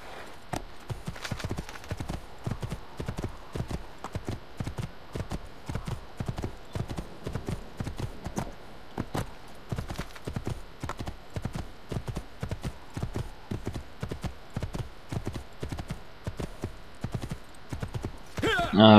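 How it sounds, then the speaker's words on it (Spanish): A horse gallops in the Assassin's Creed II video game, its hooves pounding in a rapid, steady rhythm for the whole stretch, loud and close. "qué caballo más revoltoso"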